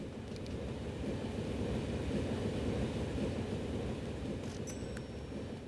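A train in the Transport Fever 2 railway simulation game rumbles steadily throughout, a low continuous rolling drone with faint high metallic squeals near the end and no talk.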